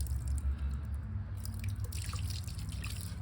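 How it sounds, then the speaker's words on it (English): Water poured from a container onto the soil around a baby avocado tree, a steady dripping and trickling that runs throughout at moderate, close range, with no talking. "Let's put a little bit more water."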